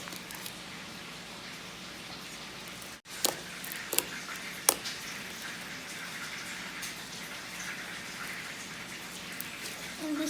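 Sticky slime made without shaving cream being squished and pressed, giving soft, wet, crackling squelches with a few sharper pops, steady and close throughout with no talking.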